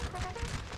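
A musket volley fires in Napoleon: Total War, heard as a brief, faint, muffled crackle of several shots blending together, as if from a distance.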